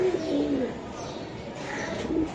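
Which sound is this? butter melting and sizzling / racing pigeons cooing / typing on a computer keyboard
racing pigeons cooing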